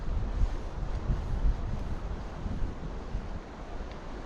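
Wind gusting through a river canyon on the South Platte in Cheeseman Canyon, a steady broadband rush with low buffeting on the microphone and a water-like wash, continuous and fairly loud with no talk.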